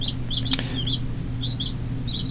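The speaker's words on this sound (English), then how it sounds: "we have 3 chickens that are actually probably about" Newly hatched chicks about two days old cheep in short high bursts at close range, repeated several times over a steady low background hum, with no talk.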